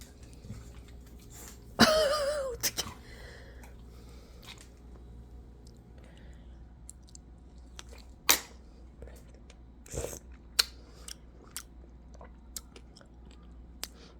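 A pet chews pieces of gold kiwi fruit, making wet, squishy bites and crunches. The chewing is close and comes in scattered bursts, with a voice speaking softly in between.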